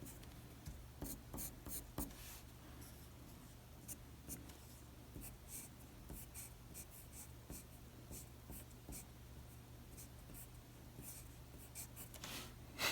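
Pencil or drawing tool scratching on paper while sketching a male figure, with faint continuous rubbing strokes and brief quicker scribbles, soft and close over a low steady hum.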